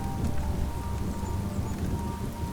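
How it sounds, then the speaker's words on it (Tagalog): Storm with heavy rain, a dense steady hiss of downpour with a low rumbling undertone, continuous and enveloping throughout. "Habang patuloy siyang sinasalanta ng bagyo, unti-unting nagbago ang kanyang anyo."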